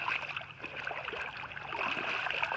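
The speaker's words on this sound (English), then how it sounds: "we're gonna rinse the sand off" Running water rinses sand off a freshly caught salmon, a steady close splashing and trickling wash with a faint hiss, no talk over it.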